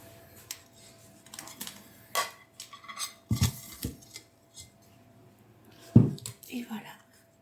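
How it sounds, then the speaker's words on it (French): A yogurt cake being flipped out onto another plate, with dish and plate clatter, soft scrapes and a couple of sharper knocks against ceramic, close up amid quiet background murmuring. "Je vais prendre une autre assiette et le retourner."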